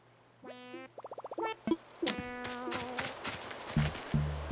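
Buzzing of a mosquito in Animal Crossing: New Horizons, a short whining hum with chirpy game tones and plucky effects around it, close and fairly quiet, no talking.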